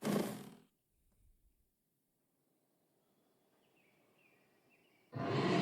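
A monster roars from the reactor in the video game Final Fantasy VII Rebirth. Two deep, loud roaring bursts come at the start and the end, with a quiet ambient hum and faint calls between them.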